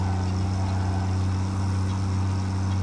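A tractor drives in the factory-building game Satisfactory, its steady low engine drone and hum running evenly throughout with no talk over it.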